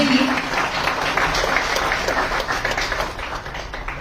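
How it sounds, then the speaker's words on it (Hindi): An audience at an award ceremony in Udaipur gives a sustained round of loud, close applause. The clapping stays thick and even, then thins slightly toward the end. "प्लीज तालियों में कंजूसी ना करें क्योंकि आपके लिए भी बजेंगी।"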